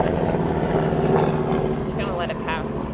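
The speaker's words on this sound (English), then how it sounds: "The helicopter." Steady low rotor-like drone of a helicopter flying overhead fills the background throughout, loud and continuous, with a few brief higher chirps near the end.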